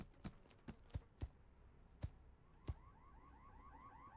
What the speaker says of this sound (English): Oh, the alarm is already going off.